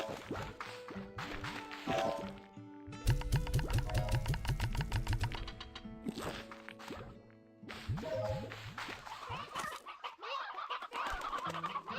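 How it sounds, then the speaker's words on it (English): Many chickens cluck in a busy, overlapping chorus inside the video game Slime Rancher 2, with quick repeated cackles and clucks layered over soft game music, loud and close throughout. "Wow, that's a lot of chickens."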